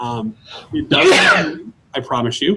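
A single loud, close sneeze bursts out between stretches of a man's speech.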